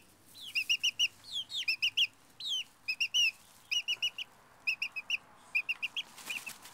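Backyard hens chattering and clucking in short, closely spaced bursts of bright calls on a spring morning, close and fairly loud, with no talk over them.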